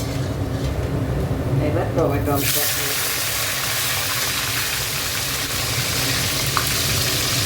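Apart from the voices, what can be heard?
cumin seeds tempering in hot oil, then frying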